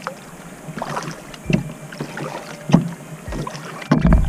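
Paddle strokes dip into a lake from a canoe on a solo trip in Algonquin Park, a soft rhythmic splash about every second or so, close by, with light wind noise underneath and a louder stroke at the end.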